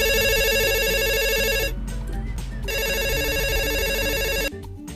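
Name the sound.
telephone ringing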